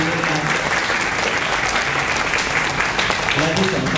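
An audience applauds at a Thai music show as a singer is introduced, producing a loud, dense, continuous clapping that holds steady for the whole stretch, with speech faintly mixed in.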